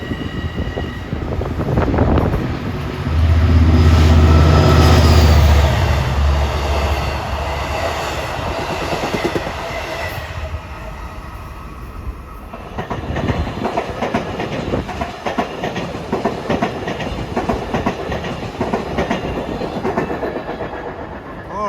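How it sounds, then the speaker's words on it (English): LIRR train 662 from Long Island City to Port Jefferson, hauled by diesel locomotive 405, approaching alongside track 3 at Woodside: a loud roar swells as it passes close by, then gives way to rhythmic clickety-clack of wheels over rail joints with some wind buffeting. "approaching at 5:13 is train 662"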